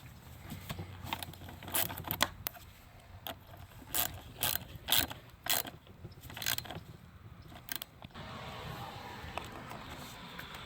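A ratchet tightens a 7 mm band on a 1.8L Chevy Cruze engine during timing cover gasket work, with bursts of quick clicking separated by pauses and quiet shop noise in the background.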